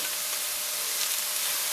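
Onions sauteing in a pan for Creole pork chops with NOLA red gravy, giving a steady, close, even sizzle and hiss with no breaks and no voices.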